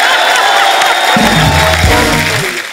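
Studio audience on a Hindi comedy talk show clapping and cheering, a loud crowd roar with music swelling underneath and fading toward the end.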